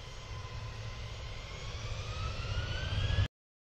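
TWA Flight 800 jet airliner engines run up in a steady, loud roar, a rising whine building over the low rumble before cutting off abruptly.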